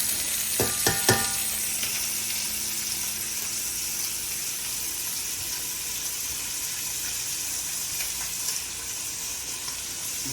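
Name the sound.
short ribs searing and sizzling in a pan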